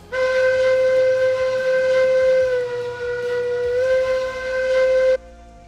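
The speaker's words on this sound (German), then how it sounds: "Ich werde mal die Pfeife abgehen lassen." Steam locomotive whistle in the railway game Railroads Online, a loud, steady, tonal blast held for about five seconds with a slight pitch dip midway, then cut off sharply, with no talking.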